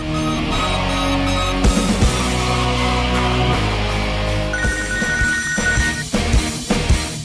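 A telephone rings on an outgoing call, a repeated electronic ringback tone that is loud and close. Musical backing plays over it the whole time, with a higher tone joining in near the end.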